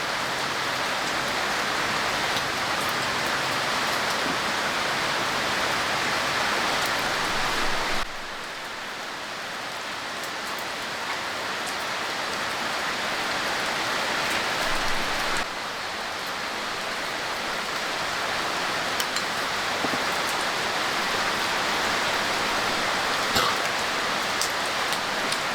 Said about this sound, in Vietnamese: Trời nó mưa đấy.